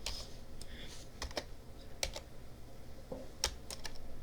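Quick, uneven keystrokes on a computer keyboard while chatting in Roblox, light taps and clicks scattered over a few seconds against a quiet room background.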